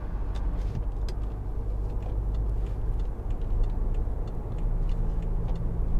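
A 2015 BMW 520d M Sport's engine and road rumble hum steadily from inside the cabin while driving, with faint light ticking sounds scattered over the low, continuous drone.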